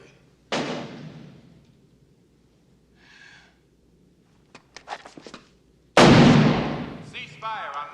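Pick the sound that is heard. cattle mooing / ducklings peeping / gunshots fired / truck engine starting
gunshots fired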